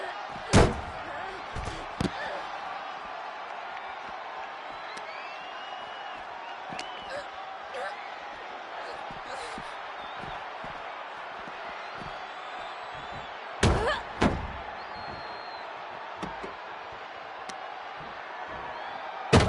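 In a WWE 2K25 match a car door slams down on a wrestler's trapped hand, a few sharp loud bangs over crowd noise and ongoing commentary.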